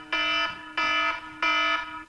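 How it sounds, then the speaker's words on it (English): Three evenly spaced electronic alarm beeps, each a loud, harsh, buzzy tone lasting about a third of a second. "alarms go off again because I just divided by a negative"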